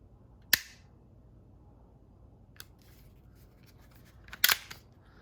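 Trigger of an airsoft Umarex Glock 19 Gen3 pistol pressed twice, each giving a sharp, close mechanical click with a couple of seconds of quiet between them.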